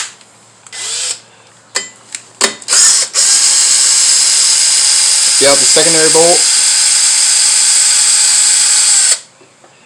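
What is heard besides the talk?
Milwaukee drill removing a bolt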